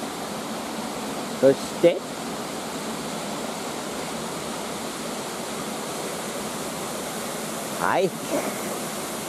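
Fudo Waterfall at Fudo-do in Higashiagatsuma pours as a steady, even roar close by, with brief bursts of speech and handling noise breaking over the constant rush.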